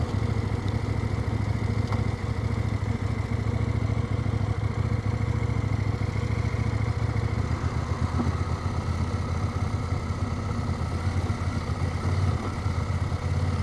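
A motorcycle engine idles steadily nearby, a low rumbling drone with faint mechanical clatter and no talking.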